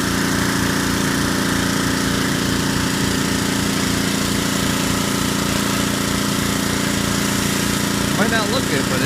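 An engine-driven pressure washer running a surface cleaner over a driveway, with a constant loud, close mechanical drone and a rattly motor hum that holds steady throughout.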